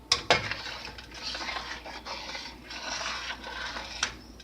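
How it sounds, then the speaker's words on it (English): A spoon stirs dumplings and garbanzos in a metal pot, with a sharp clink near the start followed by a steady scraping swirl and a final knock, close by. "And give this a little stir."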